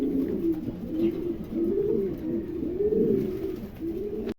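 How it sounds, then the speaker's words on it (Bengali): A pair of king pigeons coos close by in a repeated, soft, throaty rolling rhythm, each coo swelling and fading, over faint background noise. "চমৎকার এক জোড়া কবুতর"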